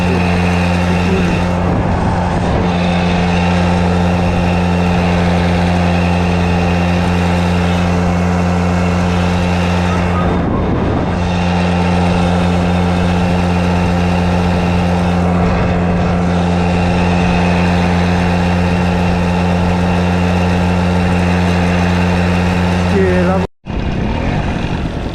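A restored Honda Camino moped engine drones steadily while riding on a sunny day, a close, constant buzzing hum with slight swells as it is throttled, running for most of the stretch before cutting off abruptly near the end.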